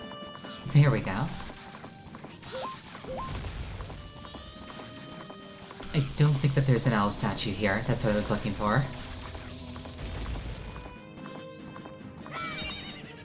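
Epona, the horse in the video game Majora's Mask, galloping with rhythmic hoof clip-clops and a whinny, under someone talking throughout, alongside game music and effects.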